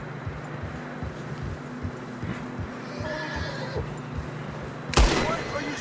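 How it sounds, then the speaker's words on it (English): A horse neighs loudly and close near the end in Red Dead Redemption 2, on a narrow, snowy trail. Steady hoof clip-clops and game ambience run underneath throughout. "Horses are getting tired."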